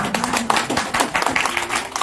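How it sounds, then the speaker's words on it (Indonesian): Audience members at a Nagaya holder gathering in a hotel in Bekasi give applause, a steady run of dry, fairly close handclaps lasting the whole moment with faint voices beneath. "Anda nggak kasih tepuk tangan buat Nagaya?"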